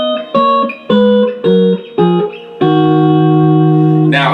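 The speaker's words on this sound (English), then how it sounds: "10ths sound like this. I'm sure you've heard the sound before." Guitar plays tenth intervals as paired notes, four short plucked dyads in sequence followed by one longer sustained dyad, loud and close with a bright electric tone.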